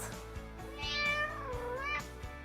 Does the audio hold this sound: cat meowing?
yes